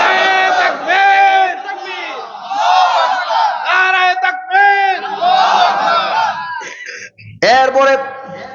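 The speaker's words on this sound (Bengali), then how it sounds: "তো হাত উঁচু করে স্লোগান দিয়ে আল্লাহর দেখান।" A large crowd chants slogans in loud unison, raised hands accompanying the call, with repeated rhythmic shouted phrases and brief pauses between bursts, sounding close and energetic.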